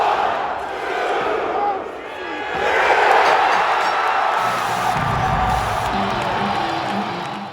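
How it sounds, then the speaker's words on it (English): At AEW Double or Nothing 2022, a large arena crowd roars and cheers loudly and continuously, swelling midway with shouts and whoops mixed in. "Crowd goes nuts."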